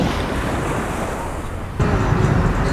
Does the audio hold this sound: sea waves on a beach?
yes